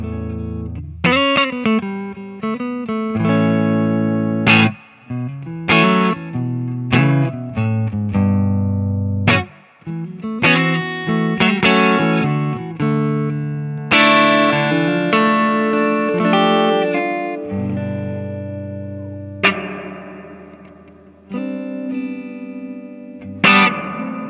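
Electric guitar run through a pedalboard of effects pedals, playing melodic phrases and chords with a processed, sustained tone, loud and alone without any talking.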